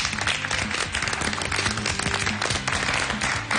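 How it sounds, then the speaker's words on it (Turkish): Studio audience applause on a Turkish television show, dense clapping under loud music with a strong beat, brief and continuous. "Ve tüm kadınlarımıza bir alkış rica ediyorum."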